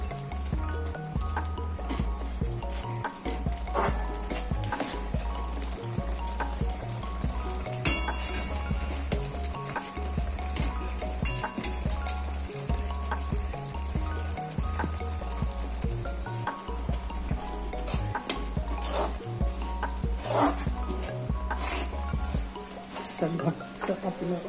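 Besan is added little by little to a pan and stirred steadily with a spoon for thapeev besan vadi, with continuous sizzling and scraping and faint spoon clinks, close and fairly loud.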